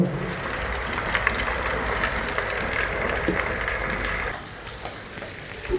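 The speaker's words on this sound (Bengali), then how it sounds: "মাছটা এখন ভেজে নিলাম, ভাজি চলতেছে" Baila fish sizzles in a frying pan as a homestyle Bengali fish dish is cooked, giving a steady, fairly loud hiss that drops off sharply near the end.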